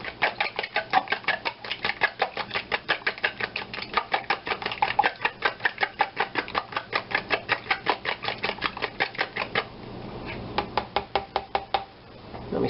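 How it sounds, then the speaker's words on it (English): Ingredients whisked in a bowl for a Victoria sandwich, giving a fast, steady run of light clicking strokes that keeps an even rhythm, briefly loosens near the end, then picks up again. Close and fairly loud, with no talking. "And we whisk those up"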